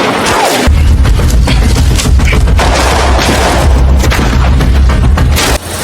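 Heavy gunfire from a film gunfight scene, a sustained barrage of loud booming shots and bursts filling the whole stretch with no talk.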